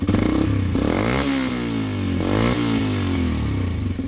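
A Suzuki RV125 VanVan motorcycle fitted with a GPR exhaust pipe runs close by, its loud engine rising and falling through two brief revs over a steady thumping idle.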